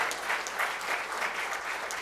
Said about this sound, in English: You can clap little more.